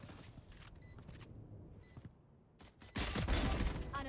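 Gunfire from a Valorant match during an esports spike retake, bursts of rapid shots building to a loud, dense volley in the final second, with quieter game ambience and brief electronic tones before it.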